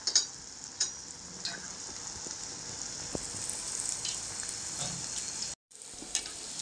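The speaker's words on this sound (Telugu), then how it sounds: "కొద్ది కొద్దిగా వేసి వేయించుకున్నాం." Potato cheese balls frying in hot oil hiss with a steady, close sizzle, broken by occasional soft pops and light clicks, and cutting out briefly for a moment near the end before resuming.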